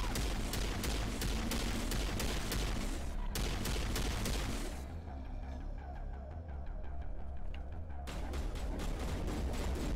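Rapid bursts of gunfire from the video game Mass Effect rattle close and loud, with a brief lull in the middle before the shooting resumes.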